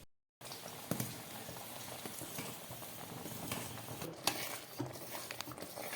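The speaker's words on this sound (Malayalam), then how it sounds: "അടയെല്ലാം വെന്ത് കുറുകിയതിന് ശേഷം 1/2 കിലോ ശർക്കര ഉരുക്കിയതൊഴിച്ച് മിക്സ് ചെയ്ത് കൊടുക്കാം" A spoon stirs ada pradhaman, a Kerala rice-flake dessert, through melted jaggery in a pan. Close, continuous scraping and wet patter carry steady clicks, with a slightly sharper knock near the end.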